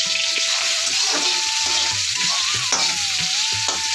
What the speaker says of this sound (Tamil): நல்லா வெங்காயம் வதக்கிட்டாங்க.